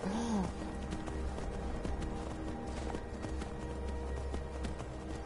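Horse hooves clip-clopping in the video game Skyrim, a steady run of rhythmic hoof thuds at moderate volume over a low ambient bed, with a brief tonal sound at the start.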